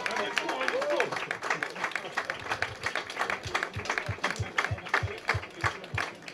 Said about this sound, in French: Applaudissements à champion olympique.